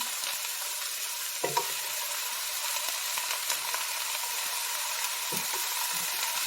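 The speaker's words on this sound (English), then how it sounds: "And here's our pepper. Stir this just a bit." Pepper sizzling in an oiled pan with chicken, a steady close frying hiss broken by a few stirring scrapes, no voices.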